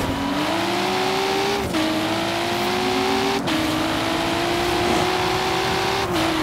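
A car engine in the racing game Forza Horizon 3 revs hard and climbs through the gears, each rising whine cut by a shift, loud and steady, with no talk over it.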